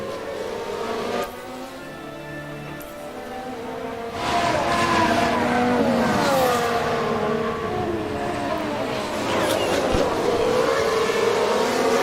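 Race car engine noise in F1 Manager 2022 during a tyre lock-up, a loud, steady high-revving whine with shifting pitch that swells louder partway through, racing sounds with no clear separate screech.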